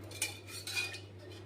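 A metal spoon mixes khaman batter in a bowl, producing a few close, quiet clinks and scrapes against the vessel over a low steady hum.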